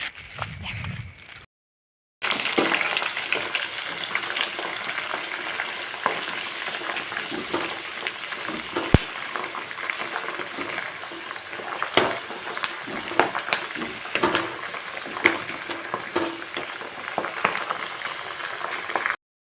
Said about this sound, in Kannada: ನಾನು ಕಾಯಿಸ್ತಾ ಇದ್ದೇನಲ್ಲ ಸೊಪ್ಪು, ಇದು ಎಣ್ಣೆ ಗ್ರೀನ್ ಆಗ್ತಾ ಬಂತು